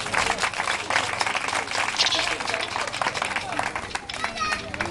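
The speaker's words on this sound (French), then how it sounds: "Je demande qu'on acclame à nos parents qui sont ici." An audience applauds parents at a ceremony, a steady, dense wash of many hands clapping together with crowd murmur, loud and continuous throughout.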